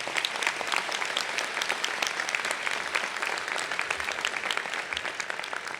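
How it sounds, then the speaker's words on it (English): Audience applause at a 2018 medical student commencement ceremony: dense, steady clapping from a large crowd that fills the space evenly and holds at full strength from start to finish. "Let's give them a round of applause."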